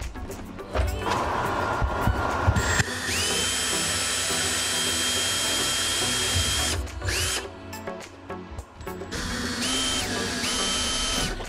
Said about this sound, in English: I'm gonna drill a small pilot hole first.